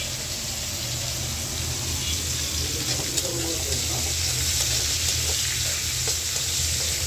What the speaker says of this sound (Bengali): তো এই যে আমার চিংড়ি মাছটা ভাজা হয়ে গেছে